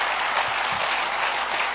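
Dense, steady clapping from a large audience at a Hindi poetry recital, loud and sustained throughout with no voices above it.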